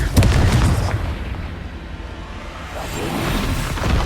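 A Confringo blasting-spell explosion in the video game Hogwarts Legacy, a loud rumbling boom that swells up at once and lingers as a dense roar across the whole stretch, with no talking over it.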